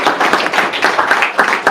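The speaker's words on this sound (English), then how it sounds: "Thank you, big applause." Audience applause following a startup pitch at a livestreamed pitch event, a loud, dense patter of many hands clapping close by, sustained steadily without any voices.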